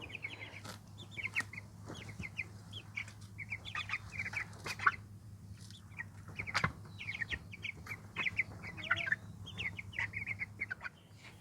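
Young chickens cluck and chirp outdoors in short, irregular bursts against a faint low background hum.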